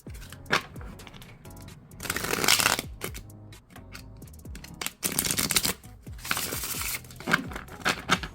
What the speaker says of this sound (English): So I'm gonna shuffle for you so you can see